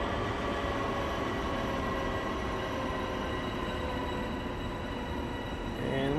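A Long Island Rail Road train in Train Sim World coasts along slowly, giving a steady, continuous rumble with faint tonal whine and rail noise that holds level throughout, with no talk.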